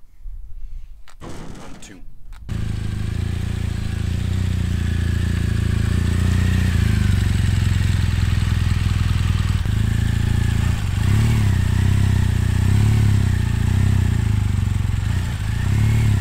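A motorcycle engine as the bike is ridden up drop-down ramps onto a hire trailer: a short rattle, then a loud, steady idle that swells in a few gentle revs, with faint scrapes and clanks underneath.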